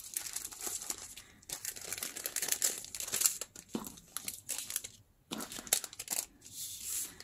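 Sheets of paper are cut and handled while a vintage-style letter document is made, giving close, crisp crinkling and rustling in irregular bursts broken by short quiet gaps.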